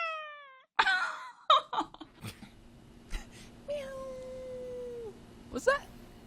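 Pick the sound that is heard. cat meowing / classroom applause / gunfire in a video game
cat meowing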